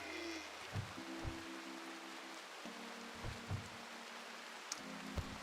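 Steady rain falls in a video game as a constant soft wash of noise, while a low electronic drone and a few soft thumps sit beneath it.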